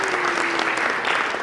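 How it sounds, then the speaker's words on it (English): Audience applause after a song at a live music showcase stage, a brief steady burst of clapping throughout. "I really appreciate the applause"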